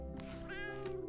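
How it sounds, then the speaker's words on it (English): A cat meows in the Hidden Paws video game, Christmas Islands level: one quiet, drawn-out meow that rises and wavers over soft, steady game music, with no speech. "we got a little kitty there"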